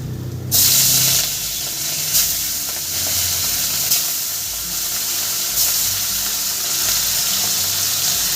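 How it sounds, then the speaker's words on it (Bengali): Pieces of rohu fish frying in hot oil, with a steady loud sizzle and hiss that goes on throughout and brief crackling spurts on top of it. "আর বাকি মাছটা আমি ভেজে নেবো"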